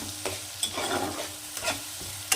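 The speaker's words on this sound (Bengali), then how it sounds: "এখন মশলাটাকে খুব ভালো করে নেড়ে চেড়ে একটু কষিয়ে নেব" Ground spice paste for prawn curry (chingri bhuna) stirred and fried in a pan, with scraping spoon strokes at irregular intervals over a soft, low sizzle, close and fairly loud.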